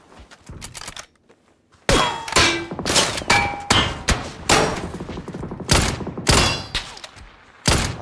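Gunfire from an MG3 machine gun rings out in an online shooter video game. Sharp, loud bursts of shots come in rapid clusters with metallic clangs, after a short quiet gap near the start, with no talking over them.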